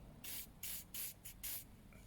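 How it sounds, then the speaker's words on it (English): Sticky stuff remover is sprayed onto a small rag in five short, close hissing bursts separated by brief pauses, quiet overall with no talk. "Spray it onto a little rag"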